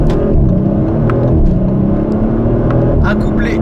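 A 2023 Audi RS5 Competition Plus with a 2.9-litre twin-turbo V6 and eight-speed automatic, its loud engine rumbling steadily close by with a few crackling exhaust pops near the end.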